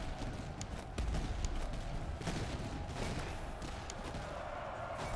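Massed musket volleys from troops in a Habsburg campaign of a strategy video game, a dense, distant crackle of firing and battle noise rolling on steadily at low volume.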